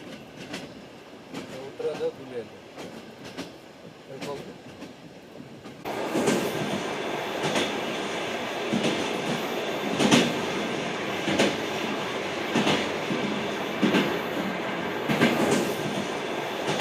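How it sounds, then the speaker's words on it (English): Trans-Siberian international train running toward Ulaanbaatar, Mongolia, heard from inside a second-class compartment: a steady loud rumble of wheels on rails with rhythmic clickety-clack beats, growing fuller and louder partway through, with no talk. "This Trans-Siberian train will take me about 700 miles to Ulaanbaatar, Mongolia."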